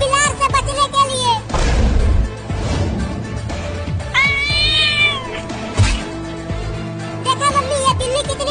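A cartoon cat meows and caterwauls in a Desi Hindi cartoon, with several loud, drawn-out meows across the clip, one long rising cry near the middle, and busy cartoon sound effects and music around them.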